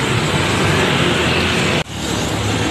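A Garuda Mas intercity bus nicknamed Popeye speeds past on a busy road, a loud, dense engine and tire roar that holds steady and then cuts off abruptly as it passes close by.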